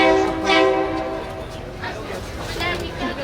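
A train horn blares once up close, followed by the rumbling, clattering roll of a passing train, with voices murmuring in the background.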